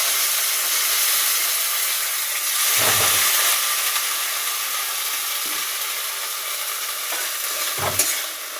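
Drumstick flowers stir-frying in hot oil on a high flame, giving a continuous bright hiss and sizzle with a few dull stirring knocks in the pan, no talking.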